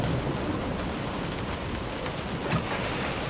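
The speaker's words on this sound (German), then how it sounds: "So wie der Regen hier runterfällt." Steady rain pours down in the video game Close to the Sun, a constant dense hiss with no talking, lifting slightly brighter near the end.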